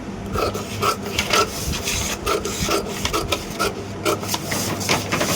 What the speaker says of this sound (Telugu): కటింగ్ అయితే చేస్తున్నా